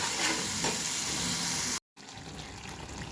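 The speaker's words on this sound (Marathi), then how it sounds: "आता बारीक गॅसवर ह्याला एक चार पाच मिनटं आपण फ्राय करून घेऊया मसाल्याला" Spice masala fries on a low flame after a splash of water, giving a steady close sizzle that cuts out for a moment and resumes slightly quieter.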